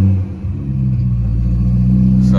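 Supercharged BMW E90 M3 engine with its rear silencer rumbling steadily at close range, a deep continuous low drone that holds loud and even for the whole stretch, with no voices over it.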